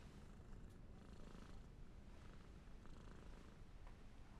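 Purring from a cat being stroked, a soft, steady, continuous low rumble held close and quiet throughout, with no talking over it.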